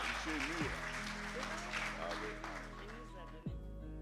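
An awards ceremony audience applauds, a moderate wash of clapping sitting under a host's voice and background music, fairly distant and steady throughout.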